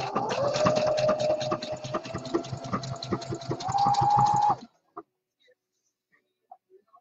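A sewing machine stitches curved fabric held straight along the presser foot edge of a jockstrap pouch, a steady close motor whir with rapid needle ticking that speeds up near the end, then stops abruptly, leaving near silence with a faint click.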